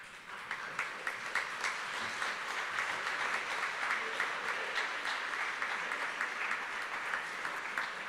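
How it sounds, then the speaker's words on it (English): A high school audience at an honors day ceremony applauds students being recognized, giving a sustained, even round of clapping that holds at a moderate level for about eight seconds. "Please give these members an applause."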